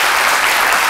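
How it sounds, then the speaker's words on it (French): Loud, dense clapping from a TV studio audience applauding actors fills the short moment, a continuous wash of applause with no voices. "Jessica, on applaudit nos acteurs."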